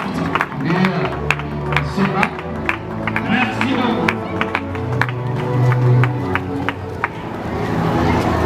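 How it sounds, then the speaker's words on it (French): An audience applauds the outgoing student government at a dean's investiture ceremony, with scattered sharp claps over crowd murmur and a voice speaking briefly. "applaudissez pour le gouvernement sortant"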